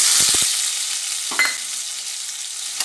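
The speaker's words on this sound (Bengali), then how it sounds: "এবার একটা পেঁয়াজ কুচি করে রেখেছিলাম সেটা দিয়ে দেব" Chopped onion goes into hot oil already tempered with dried red chillies and cumin seeds for a fish-head cabbage curry, raising a strong, steady high hiss of frying broken by a few brief clatters.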